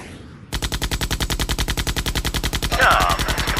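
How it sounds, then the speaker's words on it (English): Ship's guns fire in a rapid, evenly spaced rattle of loud repeated shots, sustained like machine-gun fire in a comic dub battle scene. "All guns, all batteries, open fire."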